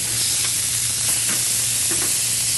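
A beef burger sizzles steadily on a grill, a continuous close frying hiss with a few faint scraping touches as the patty is flipped.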